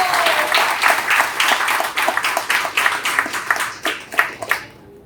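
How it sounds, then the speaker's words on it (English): An audience breaks into a round of applause at an advertising talk event, dense clapping that rises and trails off into a few scattered claps over about five seconds. "let's give a big round of applause to Mr."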